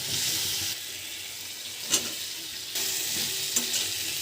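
Ginger-garlic paste, spices, chopped tomato and a little water sautéing in a pan for a prawn curry, giving a steady soft sizzle with brief stirring scrapes, fairly close and moderately quiet, with no talking.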